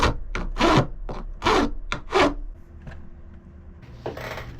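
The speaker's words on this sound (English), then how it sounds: "So I just cut a little piece off the T-track and put them both into the sled." A short piece is cut off a woodworking T-track for a crosscut sled, heard up close as about five loud rasping saw strokes in quick rhythm, followed by quieter scraping and a light clink.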